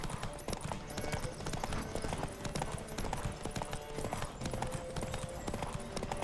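Horse galloping in The Witcher 3 during a race, with rapid, steady clip-clop hoofbeats running loud and continuous throughout alongside game sound.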